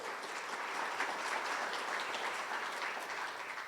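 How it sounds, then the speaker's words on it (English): A round of applause at a Fort Knox community town hall for a service-award recipient, steady crowd clapping at moderate level throughout, no talking over it. "a round of applause for her"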